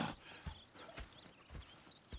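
Horse hooves clip-clop in Red Dead Redemption 2, four or five distinct thuds spaced roughly half a second apart at a slow walk, close by over a faint ambient background.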